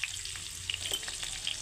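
Pumpkin and other vegetables frying in oil with salt in a pan, a steady crackling sizzle with a few stirring clicks and soft pops.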